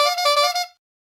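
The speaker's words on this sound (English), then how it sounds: "that is a honk." A honk sound effect fired from a streaming soundboard: one short, bright, buzzy horn blast under a second long that cuts off cleanly into silence.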